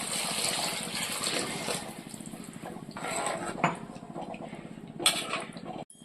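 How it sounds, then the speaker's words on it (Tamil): Tamarind water pours into a pot of Tamil-style fish curry with a steady splashing gush, and a few clinks of metal vessels are heard near the middle and the end. "புளி கரைசல் கரைச்சி வச்சுருக்கேன் இப்போ அதை இதில் ஊற்றிக்கலாம்"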